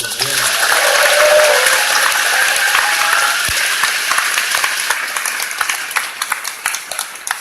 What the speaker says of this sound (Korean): 떨지 말라고 박수 한번 보내주세요